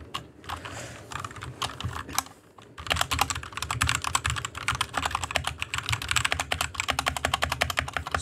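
Typing on a Royal Kludge RK61 mechanical keyboard, fairly quiet, starting with scattered keystrokes and then a fast, dense run of clicky presses.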